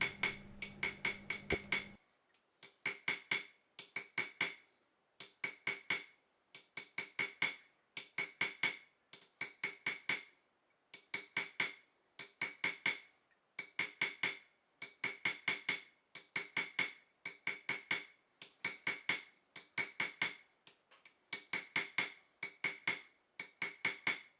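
Small hammer tapping a narrow chisel to set wire inlay: rapid bursts of light, ringing metallic taps in steady groups with short pauses, close and clear, no talking.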